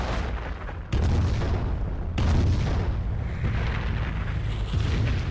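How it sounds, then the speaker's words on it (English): Nebelwerfer rocket artillery firing in a World War II strategy game, two heavy booming launches with a long rumbling tail after each one, loud and close. "snipers quickly retreat as soon as they hear the sound of the Nebel firing"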